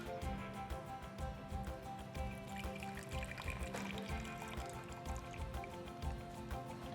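Rinse water poured out of a glass Chemex coffee maker, a continuous splashing, trickling stream close by with no talking.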